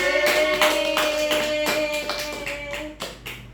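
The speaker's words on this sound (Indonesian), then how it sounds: "Tepuk tangan untuk Asir, teman-teman" Classmates clap together for a student in a classroom group session, a short burst of hand claps with a clear rhythmic pattern alongside a tonal ringing hum, tapering off near the end.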